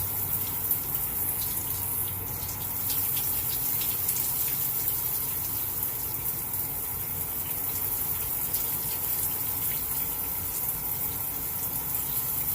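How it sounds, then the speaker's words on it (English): Tap water runs steadily into a sink as a face is rinsed after shaving, a continuous, fairly close gushing splash with no pauses. "Now it's time to rinse."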